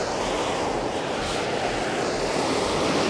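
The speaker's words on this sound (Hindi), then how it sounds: "एक और हॉट स्प्रिंग है जिसमें से गर्म पानी निकल रहा है, और इसकी आवाज़ सुनाई दे रही होगी आपको" Hot water gushes out of a hot spring in Ladakh, a loud, continuous broadband rushing roar that stays steady and close throughout, with no voices.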